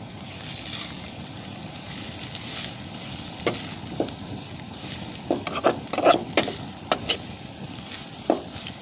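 Grated coconut and soya bean fry in a pan with a steady soft sizzle, broken by sharp scraping and clinking as the mix is stirred, growing busier toward the end.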